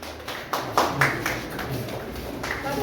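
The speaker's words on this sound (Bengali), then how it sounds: "একটা জোরে হাততালি" Audience clapping at an International Women's Day welfare foundation event, several scattered claps and taps that rise briefly near the start and then thin into a quieter, uneven patter with faint background voices.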